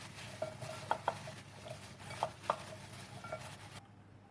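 Potato fries being tossed with black pepper and salt, soft scraping and a handful of sharp clinks of utensil against bowl or pan, then a sudden cut to near silence.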